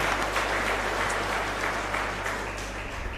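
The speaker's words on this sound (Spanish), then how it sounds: "para ellos entonces un fuerte aplauso en agradecimiento, padre, en agradecimiento" Congregation at Capilla Caacupemi in Fernando de la Mora applauding during a televised Holy Mass, a steady roar of many hands clapping in a reverberant chapel, sustained and even throughout.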